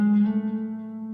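Clean electric guitar from a riff: a single sustained note with a slight pitch glide near the start, ringing steadily and fading slowly, close and alone.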